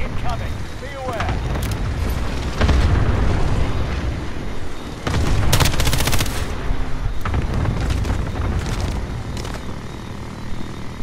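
Airstrike explosions and machine-gun fire in Call of Duty Modern Warfare, dense continuous battle noise with heavy booming blasts and rattling gunfire bursts, loud and close, with voices talking underneath.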